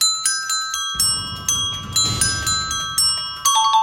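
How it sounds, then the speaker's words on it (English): Desk bells ring out a melody, a quick run of bright, clear strikes, each ringing on and overlapping the next, played alone with no voices. "Desk bells."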